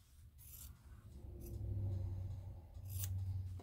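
Scissors trim fabric seam allowances on the lining of an 18th-century frock coat, giving faint, close snips and rubbing over a low, steady background rumble.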